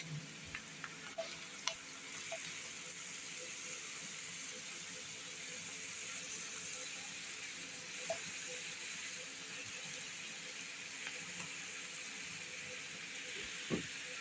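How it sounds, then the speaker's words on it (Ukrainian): A steady sizzling hiss of onion and carrot frying in oil in a pan, with occasional small pops and ticks and no talking. "смажу цибульку, додаю моркву"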